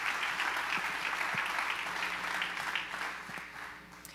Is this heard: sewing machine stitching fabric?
no